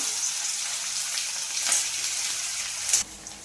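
Onion and green chillies frying together in a hot pan give a steady, close hiss of sizzling oil, with a brief louder crackle near the end before it softens.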